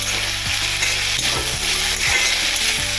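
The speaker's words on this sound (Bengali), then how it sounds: "হাফ কড়াই ছিল আর আমি একটু তেল দিয়ে ভেজে নিলাম" Capsicum and potatoes fry in a little oil in a half kadai, sizzling steadily and close by. Repeated scraping strokes of a stirring utensil punctuate the sizzle, and no one speaks.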